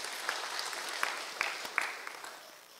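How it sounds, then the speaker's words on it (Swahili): Light, fairly quiet applause from a gathered crowd at a church event in Kiambu, with a few sharper individual claps standing out over a soft background wash. "Tumpigie makofi."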